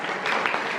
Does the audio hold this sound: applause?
yes